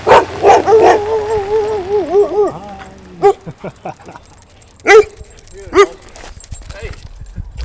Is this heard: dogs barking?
yes